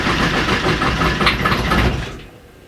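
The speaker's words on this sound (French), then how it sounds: "Ça claque et ça cale." An Alfa Romeo MiTo diesel engine runs roughly with knocking misfires before stalling, its loud, uneven rumble cutting out abruptly near the end and leaving quiet.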